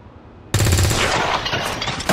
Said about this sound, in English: I hear the report of that rifle